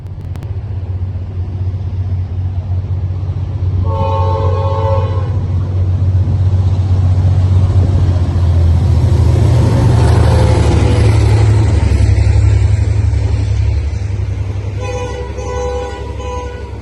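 A diesel excursion train hauled by locomotives T356 and A66 rumbles steadily closer approaching Moonee Ponds, engine drone swelling to a peak, with two blasts of a two-tone horn, one early and one near the end.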